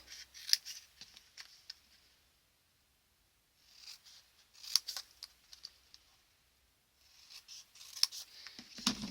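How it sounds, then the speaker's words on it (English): Scissors snip along the score lines of a piece of card for a festive paper lantern, three separate bursts of crisp, close cuts with quiet pauses between them. "we're going to cut up each score line up to the first line"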